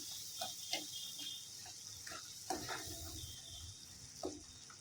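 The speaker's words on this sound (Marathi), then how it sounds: "दुधामध्ये एकदम एकजीव करून घेऊया आपण" Sheera halwa mixture being stirred into milk in a pan: soft scraping spoon strokes over a faint, steady sizzle, close and quiet, with no voices.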